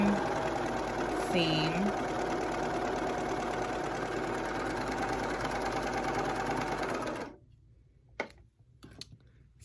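Serger stitching a seam on rash guard swimwear fabric, a steady loud mechanical whir running continuously for about seven seconds under a brief spoken word, then stopping into near silence with a few small handling clicks.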